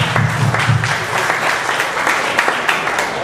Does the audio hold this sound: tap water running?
no